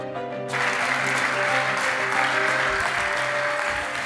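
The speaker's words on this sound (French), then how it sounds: "Mesdames et messieurs, veuillez applaudir Monsieur Jean-Louis Fréchin" An audience at a design festival applauds as a speaker is introduced, a dense, steady wash of many hands clapping that swells in after a short moment and holds loudly throughout.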